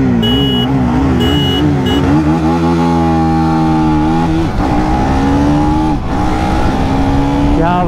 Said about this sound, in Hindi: ड्यूक में बहुत पावर है इनिशियली भाई, एकदम सटाक से निकल गई